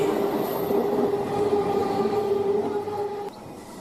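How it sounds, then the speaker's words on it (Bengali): A train rumbles steadily through the night, a continuous close rolling roar with a sustained tonal whine that drops off near the end. "ট্রেন ছুটে চলেছে এক অন্ধকার জগতের ভেতর দিয়ে"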